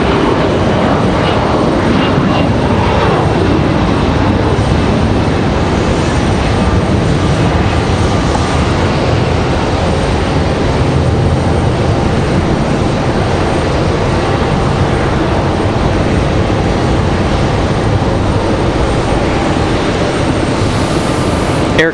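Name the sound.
airliners at Raleigh-Durham International Airport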